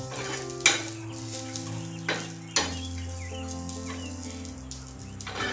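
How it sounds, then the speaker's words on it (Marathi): Freshly grated coconut roasts in a pan with a steady dry sizzle and scraping stirs, several spoon knocks standing out, under a continuous low hum of music or background tone. "मी आता अशा प्रकारे हे जे खोबरं आहे याला मी भाजून घेते."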